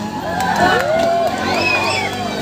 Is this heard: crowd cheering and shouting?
yes